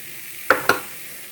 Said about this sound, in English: Stir that together real good.